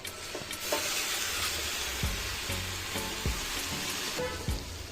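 Lentils fry in a pan for dry bhuna khichuri, with a steady crackling sizzle. Scattered scrapes and knocks from stirring sit close and moderately loud, and no one talks.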